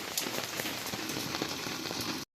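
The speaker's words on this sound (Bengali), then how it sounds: "হ্যাঁ সেই বৃষ্টি ভাই" Rain during a low-pressure storm patters steadily on surfaces nearby, a dense, even hiss of drops that cuts off abruptly after about two seconds.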